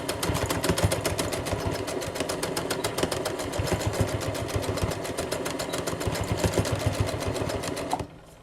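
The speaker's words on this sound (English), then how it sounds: "start doing a little bit of sewing and reverse it and go over the hair tie about 3 times" A sewing machine stitches a DIY cloth mask, running in a fast, even rhythmic chatter of needle strokes for about eight seconds before stopping abruptly.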